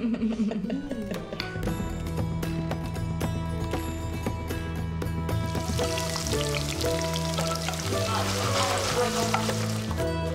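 Food frying in hot oil sizzles in a kitchen, a dense hiss that swells and grows louder partway through, mixed with clinks and other tonal background sounds.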